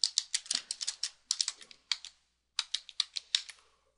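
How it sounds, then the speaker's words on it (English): Typing on a computer keyboard comes through close and clear as bursts of quick, crisp key clicks, with short pauses between runs and no talking. "and we'll type in our caption."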